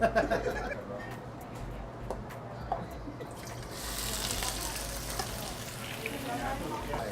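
Al pastor sauce sizzles as it fries, a steady broadband hiss that swells after a few seconds and runs on continuously, with clinks and stirring noises in the first half.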